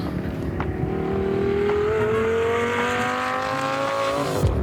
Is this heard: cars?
yes